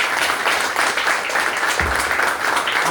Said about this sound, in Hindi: सबसे पहले एक जोरदार ताली हमारे यश सर के लिए।